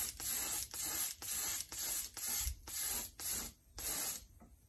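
Spray paint goes onto the main body of a 1911 pistol in eight rhythmic, closely recorded hissing bursts, each lasting about half a second, separated by brief pauses.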